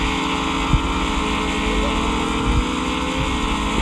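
Motorcycle engine in the Roblox video game, a steady droning hum that runs continuously throughout at an even level, with a couple of brief thumps and no talking.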